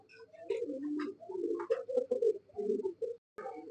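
Andalusian pigeons cooing close by, a steady run of soft, throaty coos that swell and fall in uneven phrases, with one brief gap near the end before the cooing resumes.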